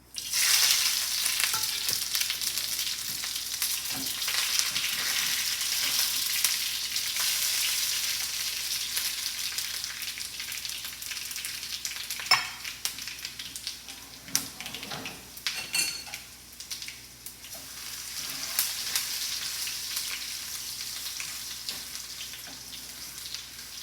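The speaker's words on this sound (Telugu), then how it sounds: "పోపుకి జీలకర్ర ఆవాలు మిరపకాయలు కరివేపాకు ఎల్లుల్లిపాయ చేద్దాం" Cumin, mustard seeds, chillies, curry leaves and garlic tempering in hot oil for a dal with dried tamarind leaves, a dense sizzle at first that thins out, with scattered stirring scrapes and pan knocks and no talking.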